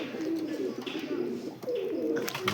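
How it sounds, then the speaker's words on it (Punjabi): A fancy pigeon coos repeatedly nearby, soft throaty rolling calls in two or three bursts with faint chirps from other birds behind them. "ਬੜਾ ਜ਼ਬਰਦਸਤ ਕਬੂਤਰ ਆ"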